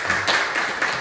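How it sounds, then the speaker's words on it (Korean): Congregation applauding during a church service, a steady, dense wash of clapping from many hands filling the room for about a second, fairly loud and without talk. "우리 한번 박수하고 인사 한번 나누시죠"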